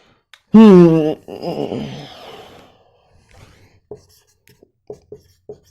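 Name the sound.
writing on a board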